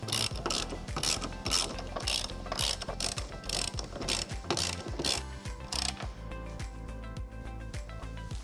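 Bolts are wound in by ratchet on a vehicle control arm: a steady, close, loud clicking of the pawl, running in repeated rapid bursts with short pauses between strokes.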